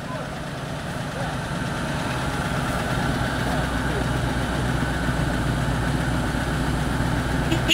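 An engine runs at a steady, rumbling idle near the microphone on a 9-ton Ural truck stuck in a swamp, with people talking over it.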